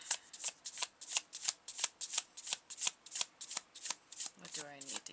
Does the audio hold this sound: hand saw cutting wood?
no